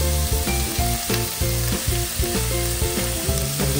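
Pork belly sautés in a pan with a little oil, a loud, close, steady sizzle broken by rhythmic stirring scrapes, with no voices.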